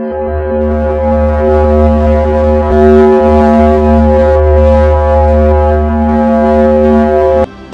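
Venus plasma wave signals converted to audio come through as a deep, steady grinding drone with a low churning moan and sustained tonal layers, loud throughout before cutting off abruptly near the end.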